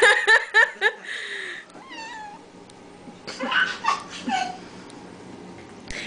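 A pet cat meows several times up close: a rapid burst of short, high cries, then a few drawn-out wavering calls and more yowls over quiet room tone.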